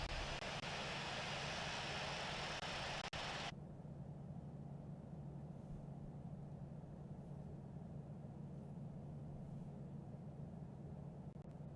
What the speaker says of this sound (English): we'll start up engine 2.